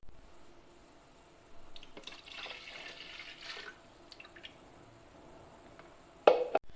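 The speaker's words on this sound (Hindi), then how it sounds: "अभी हमने दूध डाल दिया है और ये लाल शरबत हम डाल रहे हैं इसमें।" Milk and red sherbet being poured together for a milkshake, heard as quiet, close trickling and splashing with a short burst of sharper liquid splatter near the end.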